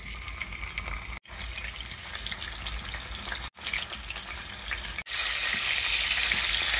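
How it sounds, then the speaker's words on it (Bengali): Fish fries in oil in a pan, giving a steady, loud broadband sizzle that runs continuously with a few brief breaks and swells louder toward the end. "মাছগুলি ভেজে নেব এভাবে"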